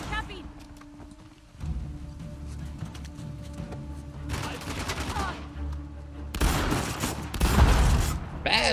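Gunfire bursts in Uncharted: The Lost Legacy, rapid shots that come in clusters and grow louder toward the end, over a low rumbling backdrop, with a voice talking in places.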